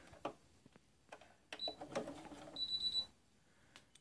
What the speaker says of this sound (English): Carriage will move.